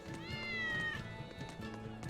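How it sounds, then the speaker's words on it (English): Cats meow in the video game Tales of Berseria: a couple of clear, rising and falling mews up close, with faint footstep-like thumps underneath and no talking. "Cat. Look at all the cats."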